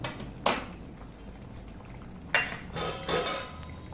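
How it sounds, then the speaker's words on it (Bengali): A plate set down as a lid over a cooking pan of vegetables, giving two sharp metallic clanks a couple of seconds apart and then a softer rattle, close and clear, with no talk. "এই দেখো আমি একটা প্লেট ঢাকা দিয়ে দিলাম"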